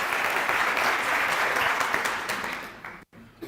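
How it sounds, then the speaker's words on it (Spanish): An audience at a self-improvement course applauds Mr. Holton, a sustained burst of clapping that thins and fades out toward the end. "Un fuerte aplauso para el señor Holton."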